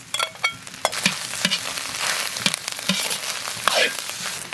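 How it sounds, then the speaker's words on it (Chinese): Eggs stir-fry in a wok with green and red chili peppers, onion and wormwood, giving a close, busy sizzle broken by repeated spatula scrapes and knocks against the metal, with no talk. "先炒青红辣子、洋葱，稍微炒一炒"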